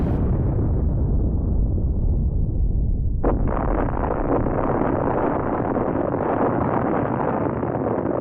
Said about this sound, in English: I will be simulating nuclear explosions with a yield of 1 megaton of TNT.